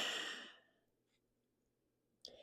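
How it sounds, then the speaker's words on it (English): One deep breath is pushed out through the mouth during a yoga session, a soft breathy sigh lasting about half a second that trails into near silence, then a faint breath at the end. "one exhale out of your mouth"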